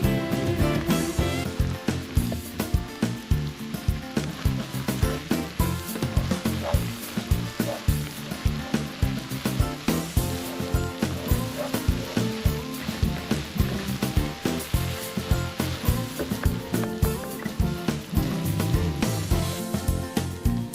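Soy sauce sizzling loudly in a hot pan with lettuce wrap filling, a steady dense crackle and hiss running throughout with occasional stirring scrapes, close and continuous.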